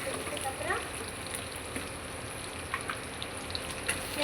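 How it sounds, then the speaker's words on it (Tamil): Onions frying in a pan give a steady, fine crackling sizzle with scattered pops, held at a moderate level for a few seconds. "வெங்காயத்தை நல்லா வதக்கிக்கணும்"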